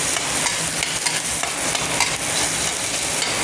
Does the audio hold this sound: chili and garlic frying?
yes